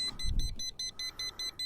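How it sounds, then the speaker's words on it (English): A quick run of short, high-pitched electronic beeps from a Schumacher SL1396 800 amp jump starter repeats at an even rhythm, fairly faint, after a brief low thump. "Line up red, it's beeping."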